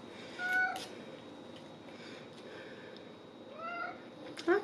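A cat meows several times, short rising cries scattered across a few seconds in a quiet room, with one louder call near the end and no talking.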